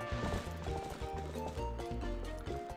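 Rhythmic horse hoofbeats clip-clop over The Legend of Zelda: Twilight Princess's musical backdrop, a steady repeating trot heard clearly but not very loud.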